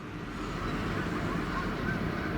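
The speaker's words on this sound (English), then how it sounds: "A couple of geese there going over it." A few distant goose honks carry faintly over a steady low rumble of background noise near a river bridge, with no talking.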